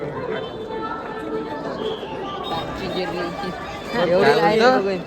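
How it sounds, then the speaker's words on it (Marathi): A large, packed crowd of pilgrims at the Pandharpur wari fills the space with dense, close babble and overlapping voices, swelling louder toward the end while someone talks nearby. "खूप गर्दी आहे म्हणजे अक्षरशः माणसं बसलेत खाली"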